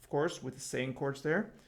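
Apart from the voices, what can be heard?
None of the usual background noises is heard.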